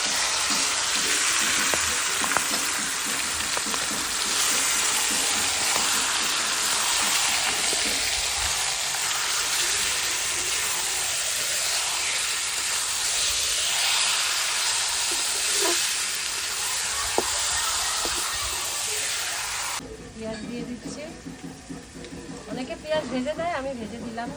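Goat meat hitting a hot pan with bay leaves and whole garam masala for biryani, a loud, constant sizzle and hiss with stirring scrapes, fading to a quieter crackle near the end while a person talks.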